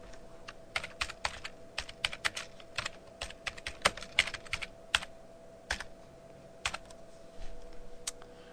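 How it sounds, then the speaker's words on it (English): Someone types on a computer keyboard, with crisp, irregular, close key clicks in quick bursts and short pauses, over a quiet steady background hum. "I'm going to type out the title for our menu"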